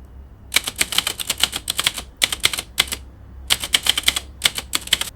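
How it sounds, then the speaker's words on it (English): Typewriter typing generated by Stable Audio: dense bursts of sharp mechanical key strikes in quick runs separated by brief pauses, crisp and close, with no voices. "So that's pretty slick. That's a typewriter typing."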